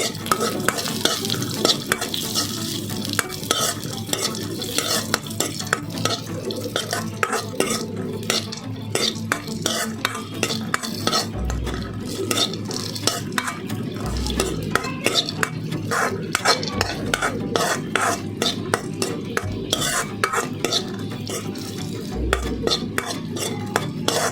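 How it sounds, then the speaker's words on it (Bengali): Raisins and nuts fry in hot ghee with a steady, close sizzle, broken by frequent spatula scrapes and stirring clatter against the pan throughout. "কিশমিশ আর বাদামগুলো আমি ঘিয়ের মধ্যে ভেজে নিচ্ছি"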